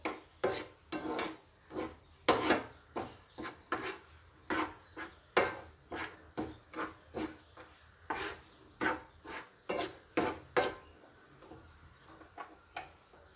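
Gram flour being stirred and roasted in a pan for besan ladoos, a steady run of close, rhythmic scraping strokes of a spoon against the pan, about two per second, with no voices.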